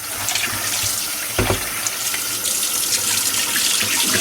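Tap water runs steadily into a sink while raw chicken is rinsed for brown stew chicken, a close continuous splashing rush with a brief knock partway through.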